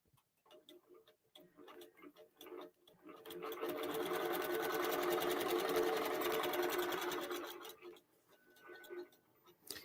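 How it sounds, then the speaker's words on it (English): A QBOT V3 computerised quilting setup runs a sewing machine stitching a row, a rapid steady needle chatter that starts after a few soft clicks and fades near the end, close and fairly quiet. "Now it's going to quilt that second row"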